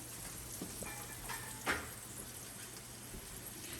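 Cleaned, deveined shrimp with tails on fry in a pan with butter, bell pepper and garlic, giving a steady, soft hissing sizzle with a faint stir or clink partway through, no talk.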